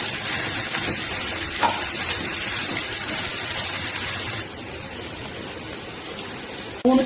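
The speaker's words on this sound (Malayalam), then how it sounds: "എണ്ണ ചൂടായിട്ടുണ്ട്, ഇതിലേക്ക് നമുക്ക് വെളുത്തുള്ളി, ഇഞ്ചി, പച്ചമുളകും വേപ്പിലയും ചേർത്ത് കൊടുക്കാം." Garlic, ginger, green chillies and curry leaves sizzle steadily in hot oil for a Kerala-style prawn pickle, a dense, even hiss that runs throughout and drops slightly in level partway, ending with a brief clatter.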